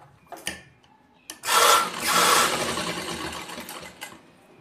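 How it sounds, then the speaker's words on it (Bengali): Sewing machine running a stitch along the neckline of a nightie, a short burst near the start, then a steady whirring run of about three seconds, close and fairly loud, ending with a couple of clicks. "এটার উপর আরেকটা সেলাই দিয়ে দেবো।"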